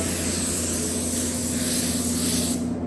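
A spray gun lays down light coats of silver paint on a Harley-Davidson lowrider panel, giving a steady, close airy hiss that runs almost without a break and then cuts off just before the end.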